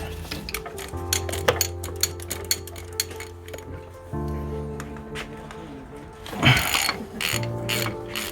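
Ratchet undoing screws on the gearbox of a salvage Mini Cooper R52, a close, steady run of fine clicking over several seconds with a brief louder knock near the end and no talk.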